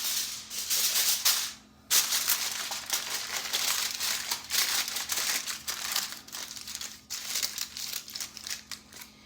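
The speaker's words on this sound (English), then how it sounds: "We are gonna cover it up with some aluminum foil." Aluminum foil crinkles and crumples continuously over a meatloaf pan, close and fairly loud, with a brief pause near two seconds before the rustling resumes in irregular bursts.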